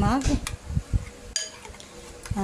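Utensils clink and scrape in a pan while sweet chilli crab is mixed, a few sharp metallic taps spread through the stretch, with a voice talking over them.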